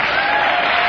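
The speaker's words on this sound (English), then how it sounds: "No, you're just clapping for yourselves." Audience clapping at a sober gathering, a brief dense burst of crowd applause, loud and close.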